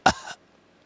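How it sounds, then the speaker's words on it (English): A person clears their throat once with a sharp, close burst followed by a shorter rasp, then silence. "Let me clear my throat."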